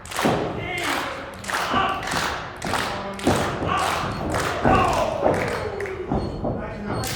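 Wrestlers trade right-hand punches in a Southern Alberta Invitational quarter-final bout, a steady run of loud thudding impacts about twice a second over an excited crowd, with voices talking throughout.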